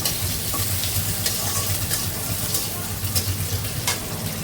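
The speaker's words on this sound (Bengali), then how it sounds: "শাক তেলে দিয়ে দিচ্ছি" Leafy greens fry in oil with mustard, onion and garlic nearby, a continuous close sizzle with a low rumbling hum beneath and occasional stirring scrapes.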